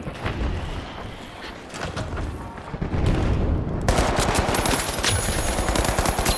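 Rapid bursts of automatic gunfire in the shooter game The Finals, with close, dense volleys that grow louder and heavier midway, overlapping shots and impacts continuing to the end.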